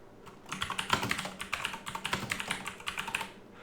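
Steady typing on a computer keyboard, a run of quick, close key clicks in an uneven rhythm lasting a few seconds, with no talking.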